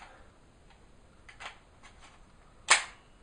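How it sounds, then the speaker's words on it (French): A magazine is fitted into an ASG Sten MK2 airsoft gun: a few faint plastic clicks, then one sharp, close snap as it seats, in a quiet room. "le chargeur qui se met comme ceci"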